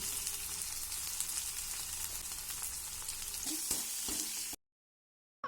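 Ground turmeric, cumin and coriander powder frying with ivy gourd in a pan, a close, continuous sizzle with a few stirring scrapes near the end before it cuts to silence.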